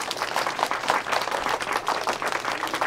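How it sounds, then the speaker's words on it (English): A children's audience at a library storytime claps steadily, dense overlapping applause that holds at an even level throughout with no talking on top. "oh, you can clap louder than that."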